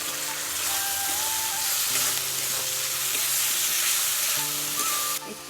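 Tomato, garlic and ginger paste sizzles steadily in a pan with fried onions while being stirred, a continuous loud frying hiss with scraping stir sounds and a brief dip near the end.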